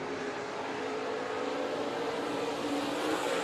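Race cars roar around a dirt speedway at Bakersfield during opening-night heat races, their engines forming a continuous broad drone that swells slightly as they pass.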